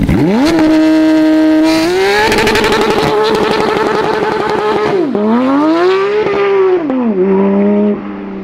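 A Porsche 911 GT3 engine warming up: loud, close revs rising and falling in repeated sweeps, with sharp high-pitched howls and brief drops between blips, easing at the end.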